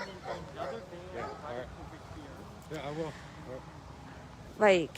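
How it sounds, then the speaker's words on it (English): Several dogs bark and yip nearby at a roadside encampment, sharp short bursts mixed with a person talking, ending in a louder, drawn-out yelp. "you can straight up hear dogs."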